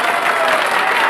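Steady applause from an audience at a city council meeting, dense and continuous clapping filling the room at close range with no pauses.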